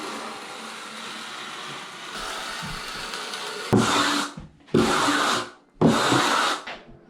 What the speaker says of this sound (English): take our plastering trowel again and start just smoothing the whole thing over, taking off these excess bits of adhesive as well